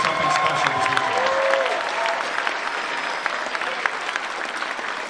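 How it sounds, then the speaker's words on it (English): Sustained applause from a furry convention crowd at a closing ceremony in a hotel, steady and full for several seconds with light cheering mixed in. "Big round of applause to everyone from the Florida Fur community"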